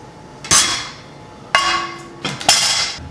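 A preheated pot, heated to 450 degrees for baking sourdough bread, comes out of the oven with three sharp metallic clanks spaced about a second apart over a quiet kitchen background.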